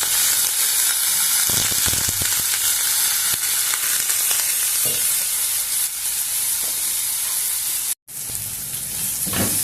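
Thin-cut potato and cabbage pieces fry in a pan with a loud, dense, continuous sizzle, close up and steady, broken only by a brief cut near the end.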